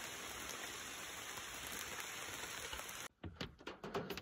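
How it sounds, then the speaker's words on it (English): Steady rain falls in a forest, a dense even hiss for about three seconds, then cuts to closer, uneven spatters and drips on nearby surfaces. "It's still pretty rainy"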